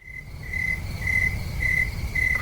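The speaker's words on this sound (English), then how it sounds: "crickets." Crickets chirp in steady rhythmic bursts, a bright repeating trill that pulses about once every half second over a low, soft background hum, with no voices present.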